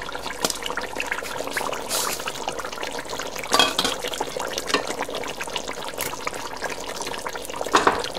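A glass of water poured into a pot of cooking meat for daig-style biryani, a soft continuous trickle and splash with a few louder spills, alone and fairly quiet.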